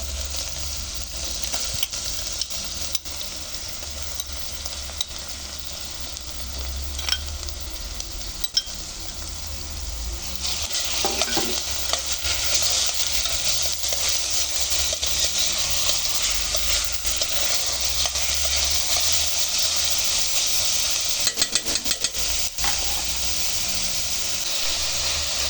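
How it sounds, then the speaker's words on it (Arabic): Chicken liver and onion fry in a pan with a steady, moderate sizzle and hiss, broken by occasional clinks and scrapes of stirring, and with no talking. "شوفوا هاي قاعدة تتقلى، درتها هي والبصلة"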